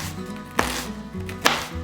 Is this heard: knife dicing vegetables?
yes